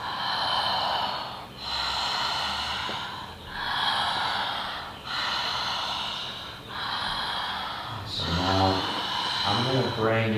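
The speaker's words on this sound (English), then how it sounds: "Yeah, big full breath." Several slow, full breaths drawn in and let out in a steady rhythm, close and clear, followed by a brief spoken remark near the end.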